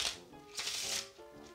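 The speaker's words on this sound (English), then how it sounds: "The deck can be shuffled" Someone shuffles a regular deck of playing cards during a close-up magic trick, giving a short crisp riffling flutter in two quick bursts, near and fairly quiet.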